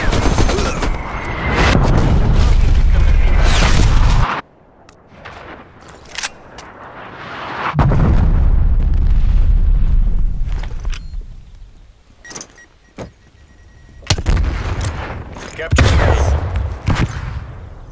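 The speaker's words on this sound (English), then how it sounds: "Artillery targeting detected. Artillery inbound." Loud artillery strike explosions in the Call of Duty Black Ops Cold War game boom in heavy bursts, with long rumbling blasts separated by quieter stretches and sharp, sporadic cracks of gunfire in between.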